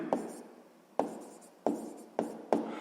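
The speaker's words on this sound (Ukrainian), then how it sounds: "Записуємо рівняння." Handwriting of a math equation on paper, five distinct pen or chalk strokes in an irregular rhythm, each a short scratchy stroke that fades, close and fairly quiet with no talking.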